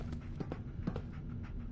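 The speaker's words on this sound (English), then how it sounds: "I hear big fat footsteps on the other No side." Heavy footsteps thud behind a locked door in the video game Fallout 4: a series of dull, irregular thumps, muffled and moderately loud against a low background hum.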